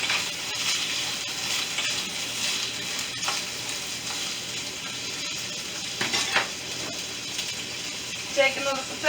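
Salmon and shrimp fry in a pan with a close, continuous sizzle and crackle, broken by occasional scraping and clinking of a utensil toward the end.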